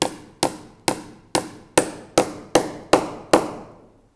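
A hammer drives a nail into a wooden barn post with eight strikes in an even rhythm, each sharp blow ringing close and clear, growing slightly louder as it goes.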